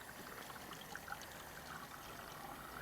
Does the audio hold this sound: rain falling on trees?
no